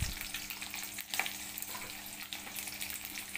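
Onions dropped into hot refined oil for a Maggi pasta dish, frying with a brief, steady sizzle and a few stirring scrapes, near but fairly soft.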